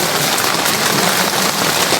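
Rain falls steadily outside a tent on Mount Ciremai, a dense, even hiss that stays constant and close with no break and no voices.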